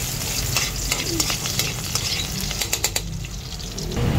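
Garlic frying in hot oil, a dense continuous sizzle heard up close, with repeated clinks and scrapes of a spatula stirring through it.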